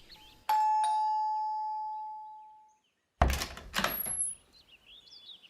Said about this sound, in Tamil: மாறி அந்த காலிங் பெல் அடி.